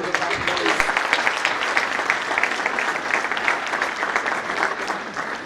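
Conference audience at an accountants' annual indaba gives panelists and facilitators a round of dense, sustained applause, steady and fairly loud throughout, with faint crowd murmur underneath and no clear speech.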